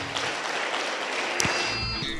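A church congregation claps together in a steady, fairly loud wash of applause that fills the room, with a faint murmur of voices beneath it.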